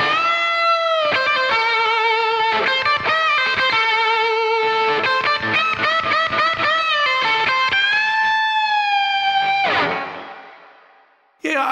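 An electric guitar plays a rock lead through a Joyo Oxford Sound overdrive pedal, an Orange-style amp in a box, blended with amp and DI signals, stereo spread and reverb. Bright sustained notes and bends ring out loud, then a reverb tail fades.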